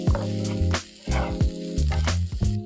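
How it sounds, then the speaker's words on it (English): Rinsed, dried green peas saute in a pan over high heat, producing a continuous close sizzle broken by the scrape and clatter of stirring, with no voices. "So I'm just going to saute them for about 2 minutes."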